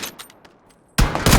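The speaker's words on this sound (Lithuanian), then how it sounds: "Iš kur šaudo, nu?" Gunfire in an SLR shooter video game: a few faint shots early on, then a loud, close burst of rapid fire in the final half second.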